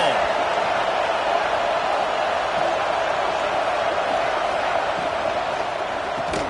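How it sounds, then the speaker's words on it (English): Football stadium crowd at a college game between Alabama and Auburn, roaring steadily as the defense tries for a red-zone stop, a dense, loud, continuous wash of cheering with no breaks. "The crowd getting behind this defense as they try to get a stop in the red zone."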